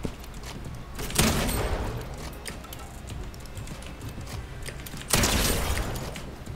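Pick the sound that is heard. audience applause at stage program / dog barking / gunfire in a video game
gunfire in a video game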